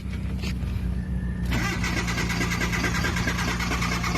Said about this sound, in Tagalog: Medyo hard starting siya sa umaga.